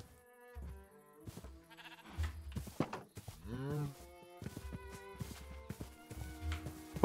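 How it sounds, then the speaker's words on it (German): Minecraft sheep bleating in a German cow-breeding playthrough: a wavering, pitched bleat stands out near the middle, surrounded by blocky footstep thumps and soft game clicks, fairly quiet overall. "Kriege ich das Schaf hier nicht irgendwie weg?"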